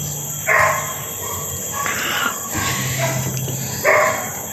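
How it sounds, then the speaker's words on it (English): A dog barks outdoors at a Philippine tiny-home building site, giving three or four sharp, separate barks spaced over a few seconds, moderately close, with faint bird calls in the background. "Sorry for the barking dog."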